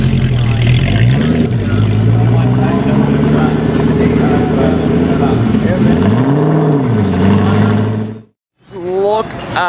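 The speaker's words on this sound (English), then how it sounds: "Four GTs rolling out." Several Ford GT cars pulling away at a car show, loud engine drones rising and falling in pitch as they rev, with people talking over them and a brief drop before another engine revs.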